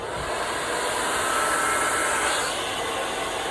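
A hair dryer blows steadily and loud at close range while hair is blow-dried at the root for volume, a continuous whooshing roar with no talking.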